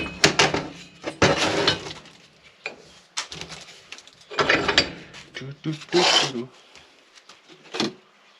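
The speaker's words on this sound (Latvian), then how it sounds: "Fleksēsim, vīlēsim tāpatās ar visu." Metal filing with a hand file during car repair work, several harsh rasping strokes in irregular bursts, fairly close, with someone speaking between and over them.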